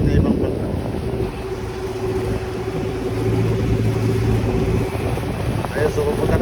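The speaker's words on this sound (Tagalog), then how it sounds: "So, meron na rin parating na ibang bangka." Another boat approaches on the water near a beach at El Nido, Palawan, its motor a low steady drone under wind buffeting the microphone and someone talking.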